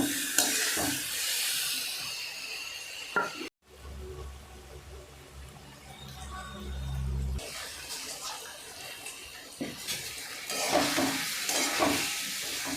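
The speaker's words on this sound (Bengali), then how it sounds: "মাঝে মাঝে একটু জল দিয়ে মশলাটাকে ভালো করে ভেজে নিতে হবে।" Spice paste with cumin powder frying in a pan for a Malabar spinach seed and prawn dish, a steady sizzle with stirring scrapes, interrupted midway by a loud low hum before the sizzle returns.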